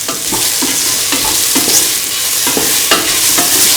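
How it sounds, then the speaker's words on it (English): Mung bean and carrot fried rice stirred steadily in a hot pan, a continuous loud sizzle broken by repeated spatula scrapes and knocks at an irregular rhythm, with no voices. "Mix in the rest of the ingredients."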